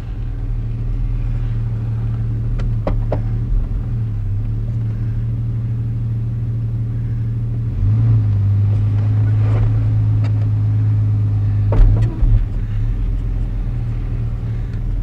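An old abandoned car, pulled out of a hole with bald rear tyres and a dodgy booster, has its engine running: a steady low idle rumble that rises slightly in pitch and loudness partway through, with no talking.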